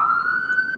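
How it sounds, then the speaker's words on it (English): Ambulance siren sounding outside, a brief steady high wail heard faintly in the background. "That was an ambulance."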